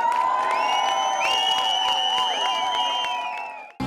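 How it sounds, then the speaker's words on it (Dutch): A crowd at a carnival prince's ball in Hoogeloon cheers and whoops loudly and continuously, with sustained tonal shouts and singing-like voices carrying over the noise before it cuts off abruptly at the end. "Met dank, een groot applaus"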